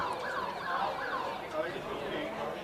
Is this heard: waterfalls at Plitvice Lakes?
no